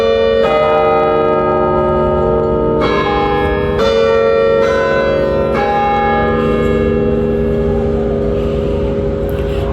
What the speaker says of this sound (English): That clock over there, there's a bell inside that long building. That's where you got that sound